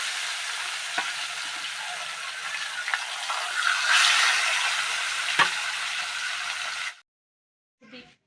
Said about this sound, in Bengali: এবার আমি কড়াইতে সর্ষের তেল দিয়েছি মাছগুলো ভাজা করে নেব